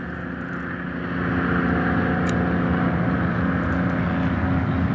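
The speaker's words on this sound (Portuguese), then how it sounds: "ônibus aqui no Chile é muito barulhento, O caminhão é muito barulhento" Heavy traffic on a street in Chile with noisy buses and trucks: a loud, sustained engine drone with low rumble that swells after the first second and holds steady, one high brief squeak partway through.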